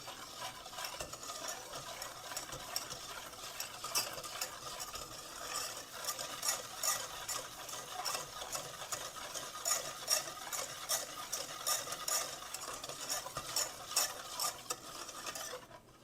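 A spoon stirs milk into homemade chocolate pudding in a pot, a soft, continuous scraping and swishing with light rhythmic clinks against the sides, quiet and close with no talking.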